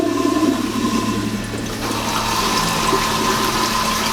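A toilet in a converted school bus flushes with a loud rushing gush of water, while a small water pump hums steadily underneath as the tank refills.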